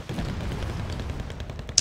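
Artillery fire in the real-time strategy video game Wargame: Red Dragon, heard as a low, continuous rumble of distant shelling with scattered muffled thumps and a short sharp crack near the end.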